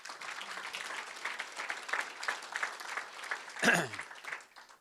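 Applause from a lecture audience at a university legacy lecture, many hands clapping at moderate level through most of the stretch, with a brief sharp louder burst near the end before it thins out.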